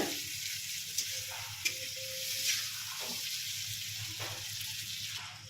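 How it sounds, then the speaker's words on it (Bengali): Potatoes fry in a pan with a steady, close hiss of sizzling oil, broken by occasional soft stirring scrapes and small clicks, with no talking. "আমি অল্প করে আলু দিলাম, দিয়ে ভাজা ভাজা করব"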